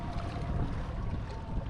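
Strong wind at Pyramid Lake on a late October day, a loud, steady low rumble and gusting roar against the microphone, alone and without pause.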